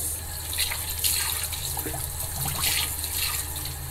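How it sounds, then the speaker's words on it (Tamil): Running water splashes steadily as homemade vetiver soap is rinsed off, a close, continuous wash of flowing water with small spatters. "இப்போ வாஷ் பண்ணிக்கிறேன்"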